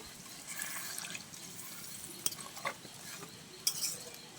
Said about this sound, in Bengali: এবারে আমি এতে একটু জল দিয়ে দেবো পরিমাণ মতন। জল দিয়ে দিচ্ছি।